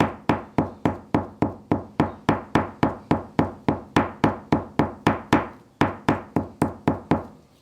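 A hammer pounds animal sinew during processing in a steady series of about twenty sharp, evenly spaced knocks, close and fairly loud, with a single short pause near the end.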